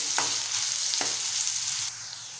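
Onions frying in hot oil for a Maharashtrian potato bhaji give a close, steady hiss with a couple of sharp stirring scrapes, then the sizzle dips slightly near the end, with no voices.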